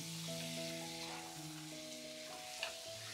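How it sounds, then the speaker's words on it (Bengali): Mutton pieces for biryani fry in a pot with a steady, dense sizzle under sustained background music. "এবার মাংসটা দিয়ে প্রায় 7-8 মিনিটের মতো কষিয়ে নেব।"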